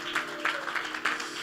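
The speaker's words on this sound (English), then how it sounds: "clap your hands if you can" Congregation in a church service clapping hands together, a brief burst of several loud claps over a steady room hum, without any voices.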